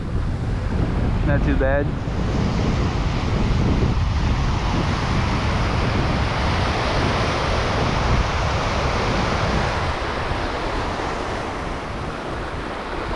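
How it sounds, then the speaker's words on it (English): Steady, loud wind of about 15 miles per hour buffets the microphone on a shoreline while fishing, with surf rumbling beneath and a brief spoken remark near the start. "Probably like 15 miles an hour wind today."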